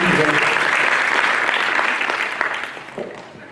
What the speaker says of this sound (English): How about a round of applause for Mejeki?